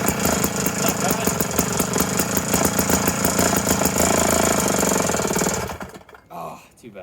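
A small gas engine on an ice auger that had been hard to start runs loud and close with a fast, rattling putter for several seconds before cutting out abruptly.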